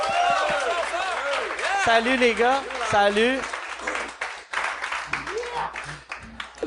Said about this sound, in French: J'aimerais ça qu'on donne une bonne main d'applaudissement à mes invités cette semaine.